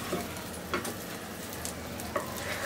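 Poor man's tacos fry in oil in a home kitchen, a steady close sizzle and bubble with occasional light spatula taps as the pieces are turned.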